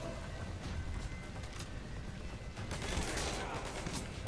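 Dense gunfire in Metal Gear Solid 5, a rapid, continuous crackle of shots that holds at steady loudness throughout with no pauses.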